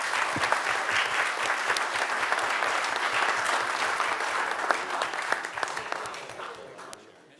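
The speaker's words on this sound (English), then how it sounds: "Can we give them a round of loud applause?" Audience at a city commission meeting breaks into sustained applause, many hands clapping steadily for several seconds before tapering off at the end.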